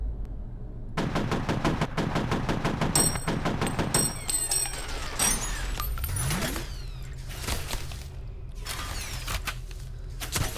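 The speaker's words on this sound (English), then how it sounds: "We'll see if we hit it with the machine gun, if that's better. So it's just doing suppressing fire now." Machine gun suppressing fire in the video game F.E.A.R., loud rapid bursts of automatic shots in quick rhythm, with sliding mechanical and impact sounds between volleys and no talk.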